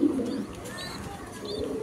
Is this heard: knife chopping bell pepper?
no